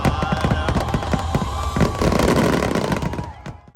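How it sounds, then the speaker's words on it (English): Fireworks at Walt Disney World during the holidays, a loud dense volley of crackling bursts and booms in rapid succession, with crowd noise underneath before fading out. "they have special fireworks which are better than the regular fireworks"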